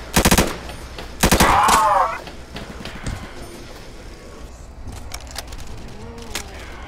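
Bursts of rapid automatic gunfire from a gun in the video game Roblox, two loud rattling volleys up front followed by quieter scattered shots and game sounds.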